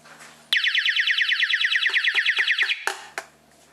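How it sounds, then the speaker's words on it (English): Watertech SinkMat under-sink water leak detector alarm: a rapid warbling electronic beep pulsing steadily for about two seconds, then cutting off, close and fairly loud with a couple of faint clicks around it. "And this is what the alarm sounds like."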